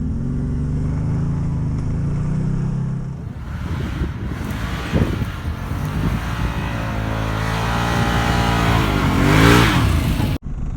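A 2021 Can-Am Maverick Sport XMR in four-wheel drive grinds through deep, knee-high mud, its engine droning loudly and revving up and down the whole time, with wind buffeting the microphone.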